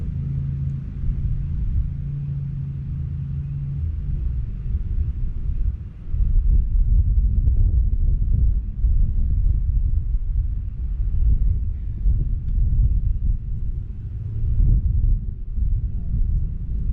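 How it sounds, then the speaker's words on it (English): Steady low roaring wind buffeting the microphone beside a Terex HR16 excavator, a continuous heavy rumble that swells louder partway through and stays strong to the end. "Can't believe how windy it is here."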